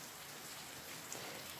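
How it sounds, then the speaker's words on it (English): Steady rain coming in through an open window on an island, a dense, even hiss of drops hitting surfaces that runs without a break, moderately close, with no voices. "It was raining inside."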